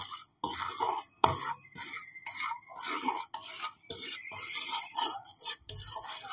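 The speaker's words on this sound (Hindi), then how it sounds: "अब तकरीबन 7 से 8 मिनट हम इसको घी में रोस्ट करेंगे" Semolina roasts in ghee in a pan for traditional suji halwa, stirred in steady back-and-forth strokes that make gritty scraping sounds with brief pauses between them, fairly quiet and close.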